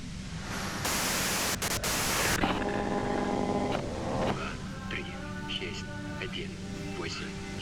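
Radio static crackles in the video game Disco Elysium, a loud rush of white noise with sharp bursts that drops to a softer hiss threaded with faint wavering tones.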